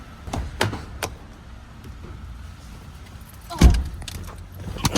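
Keys jingle in short metallic bursts by a car at a cabin, a few quick clinks early on, then a louder thump and rattle near the end, with quiet rustling between.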